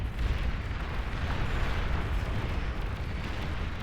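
A commander unit blowing up in the strategy game Beyond All Reason, a sustained roaring, rumbling blast that stays loud and dense throughout with no talking.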